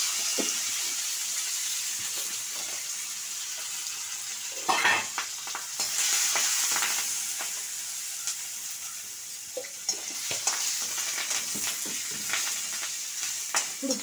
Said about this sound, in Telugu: ఇప్పుడు పోపు వేగింది.